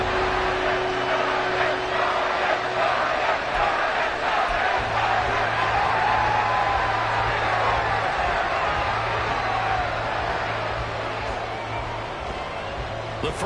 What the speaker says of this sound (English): A good crowd on hand and seemingly ready to go in the Motor City.